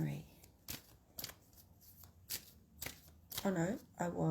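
Tarot or oracle cards shuffled by hand in a series of quick riffling bursts during a spiritual reading session, with a voice speaking near the end.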